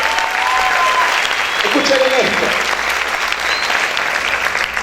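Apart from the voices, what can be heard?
congregation applauding loudly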